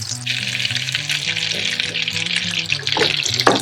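Butter and sage sizzle steadily in a hot pan, a dense continuous crackle with a few clinks of stirring near the end and no voices.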